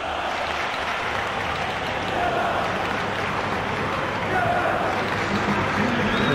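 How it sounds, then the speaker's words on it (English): Virtual stadium crowd in the PES football game applauds steadily for a substituted player during a Roma versus Feyenoord Europa Conference League final, a loud, dense, continuous wash of clapping that swells slightly midway. "it's good to see that the crowd appreciate his efforts"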